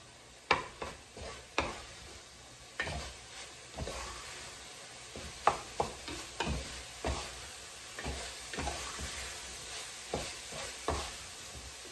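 Spaghetti sauce with garlic being stirred in a pan, with a spoon scraping and knocking the pan in an irregular rhythm over a soft sizzle, close and moderately loud, with no talking.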